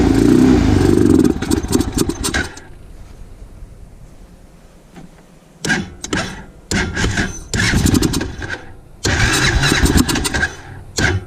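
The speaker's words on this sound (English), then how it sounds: "Once it gets warmed up, it'll run great, but it just has to get past this first start." A cold engine at a remote Alaska camp cranks repeatedly in several loud bursts, each stretch of starter grinding separated by short pauses, without catching; no one speaks.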